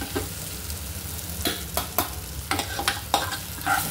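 Whole spices including poppy seeds are dry-roasted in a kadhai for mutton sukha, stirred with repeated scraping strokes and a light rustling crackle, growing busier in the second half.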